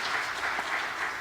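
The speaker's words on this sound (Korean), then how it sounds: "박수 한번 해주시고요" A church congregation at a Sunday service claps in steady, even applause, moderately distant and filling the room for about a second.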